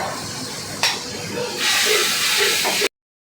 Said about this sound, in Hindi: ये हम हल्की हल्की फ्राई कर रहे हैं।